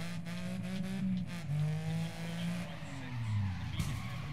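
A rally car in Dirt Rally revs its engine with tires spinning and skidding, rising and falling engine tones with scrabbling wheel noise over a few seconds.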